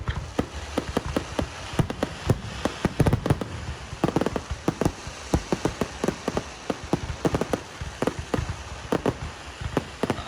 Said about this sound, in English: We have our fireworks.